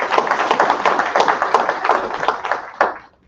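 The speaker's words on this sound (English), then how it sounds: "one more time, a round of applause for CPEX." A small evening audience at a climate change panel discussion in a gallery gives a brief, close round of clapping with distinct individual claps, fading out at the end.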